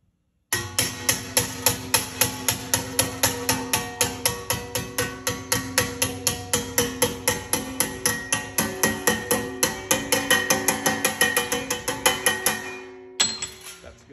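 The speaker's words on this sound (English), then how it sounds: "I'm gonna make my flanges with a hammer" Steady hammer blows on steel angle iron clamped in a heavy-duty vise, bending flanges for an oil pan: dozens of sharp metallic ringing strikes in an even rhythm, close and loud, pausing before a final hit.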